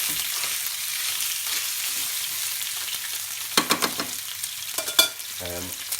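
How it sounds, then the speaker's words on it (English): Pork chops fry in a pan, giving a faint, steady sizzle throughout, with a few louder scraping and clattering knocks near the end as the chops are turned. "So the chops, I'm just going to turn these around a little bit in the pan."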